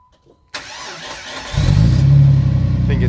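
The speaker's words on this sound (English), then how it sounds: "Go ahead and fire it up, hon." A Jeep Wrangler TJ with a MagnaFlow glass pack exhaust cranks with a starter whir, then catches and settles into a deep, throaty idle, loud and close.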